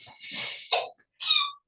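A single sneeze, a sharp breathy intake followed by a burst and a short trailing exhale, heard up close with no talking.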